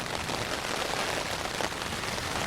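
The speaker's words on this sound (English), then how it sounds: "It rained for a little while, but not nearly this hard while we were out hiking." Heavy rain pours steadily at a tent spot along the Appalachian Trail near Roan Mountain, a dense, constant hiss of drops drumming on surfaces, close and unbroken, with no voices.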